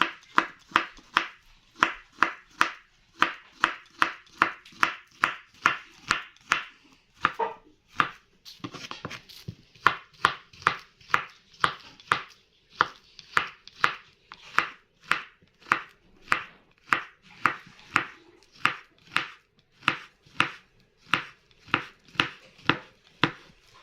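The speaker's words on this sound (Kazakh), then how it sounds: "Бананды турап алайын." Banana sliced with a knife on a board while preparing a layered cream cake: steady, evenly spaced close chopping strikes, roughly two per second, continuing for the whole stretch with no voices.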